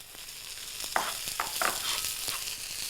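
Sliced broccoli and thin diagonal stalk pieces frying in a pan, giving a soft steady sizzle with a few brief crackles and stirring clicks, fairly quiet and with no talk.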